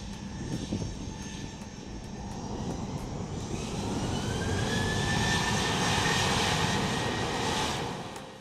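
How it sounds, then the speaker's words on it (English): A Caribbean Airlines Boeing 737-800 jet takes off down the Piarco runway, its engines roaring loud and steady as the broad rushing thrust swells and holds, with a rising whine cutting through the roar. "As 9YENU powered down the Piako runway"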